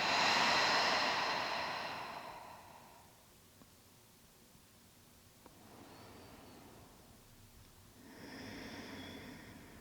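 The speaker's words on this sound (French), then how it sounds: "Inspirez par le nez. Expirez bouche ouverte." Slow, deep breathing, a long airy exhale through an open mouth, a quieter pause with a couple of faint clicks, and then another breath, close and calm, with no talking.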